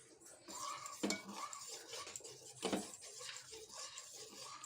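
Ugu flour powder stirred into boiling water in a pot for baby food, two sharp scraping clinks of a spoon against the pot over a soft, continuous swirling stir, quiet and close.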